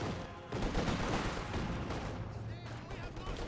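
A Company of Heroes 2 battle rattles with dense bursts of gunfire and an explosive grenade blast, steady and fairly loud beneath a commentator's voice.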